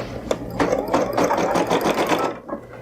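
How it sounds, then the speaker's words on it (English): A sewing machine runs a short burst of rapid, rhythmic stitches at close range, then stops. "I'm only going to sew a few stitches."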